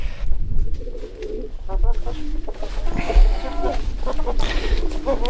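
Brahma hens and a rooster cluck and coo close by in a garden, giving a busy run of short, overlapping calls with some background noise.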